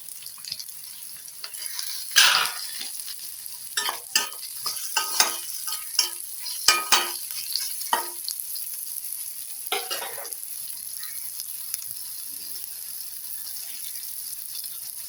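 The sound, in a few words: frying onion, tomato and ginger-garlic paste in a pan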